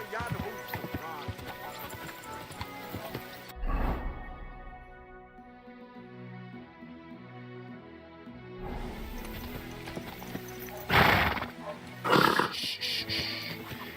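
Horse hooves clip-clopping and snorting in the medieval role-playing game Kingdom Come: Deliverance II, with a rider's voice speaking over the steady trot and louder bursts of movement near the end.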